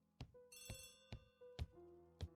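An old-fashioned telephone bell rings in repeated sharp bursts, four or five strikes with a sustained metallic tone between them, close and clear with no one speaking.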